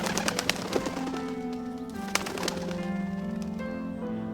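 A small bird in the Shardlight video game chirps and twitters in quick, bright bursts over a steady tonal background hum, with a few sharper clicks scattered through.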